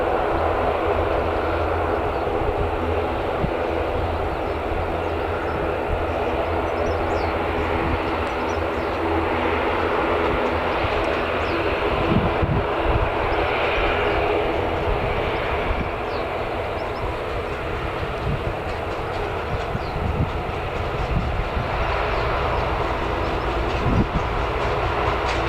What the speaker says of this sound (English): it sounds like that ATR is getting a little bit louder, so I'm guessing it's going to start taxiing